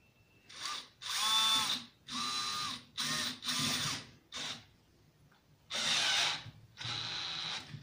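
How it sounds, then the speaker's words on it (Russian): A cordless screwdriver tightening a G-clamp in a workshop, whirring in about eight short bursts separated by brief pauses, close and clear with no talking. "Берем струбцину и шуруповерт."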